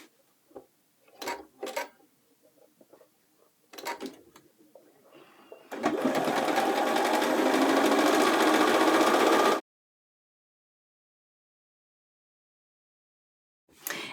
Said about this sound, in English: I'm going to sew this with a 3/8 inch seam allowance